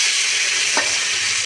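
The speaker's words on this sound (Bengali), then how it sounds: "এবার আমি পেঁয়াজ কুচি আর টমেটোটা দিয়ে দেবো।" Chopped onion and tomato sizzle loudly in hot spiced oil with whole garam masala, a dense steady frying hiss with a brief stirring scrape partway through.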